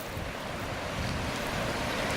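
Mississippi River floodwater surging fast beneath a bridge at ground level, a steady, loud broadband rush of churning water with wind buffeting the microphone throughout.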